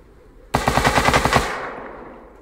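An M2 heavy machine gun fires in a video game, one loud, close burst of about ten rapid rounds lasting under a second, then a fading echo.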